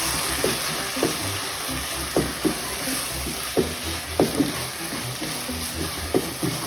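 Chicken samosa filling with mayonnaise stirred in a hot pan, a spoon knocking the pan in periodic soft thumps over a steady sizzle, with no speech.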